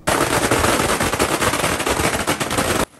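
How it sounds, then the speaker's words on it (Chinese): Firecrackers crackle in a dense, continuous barrage outside an election campaign headquarters in Keelung, loud and unbroken for nearly three seconds before cutting off abruptly. "竞选总部前，鞭炮声此起彼落"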